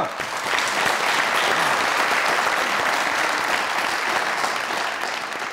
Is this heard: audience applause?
yes